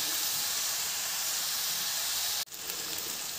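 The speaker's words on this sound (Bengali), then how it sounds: "ভালো করে কষিয়ে নিই" Unripe jackfruit sautés in a pan for a kalia curry, a steady close hiss and sizzle that drops out for an instant before resuming.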